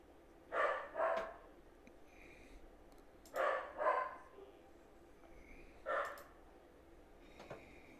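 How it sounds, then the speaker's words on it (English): A dog barks in two quick pairs and then once more, fairly close and loud in a quiet room, with a faint yip at the end and no talking. "There's my dog."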